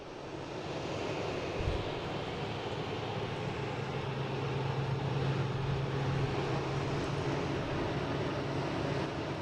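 An American Airlines airliner spools up for takeoff on runway 22, a steady broad roar with a low rumbling hum, close and continuous with no talk.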